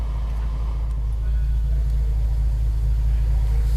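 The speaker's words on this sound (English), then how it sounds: "just a slight hum of the W12 engine." Steady low hum of a Bentley Continental GT Mulliner W12 engine idling, heard from inside the closed cabin as a constant, smooth rumble with faint background noise.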